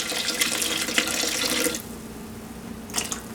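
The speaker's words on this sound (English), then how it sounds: "We'll fill this to that level with cold water." Cold tap water gushes steadily into a pressure canner for nearly two seconds, a loud, close, broadband rush, then drops to a quiet hiss with a faint splash near the end.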